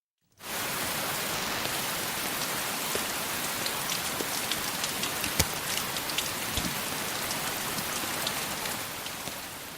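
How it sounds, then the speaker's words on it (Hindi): Rain falls outside as a steady, dense hiss that starts abruptly and holds even and close for the whole stretch, with a few sharper drop ticks and no voices. "बाहर बरसात हो रही थी"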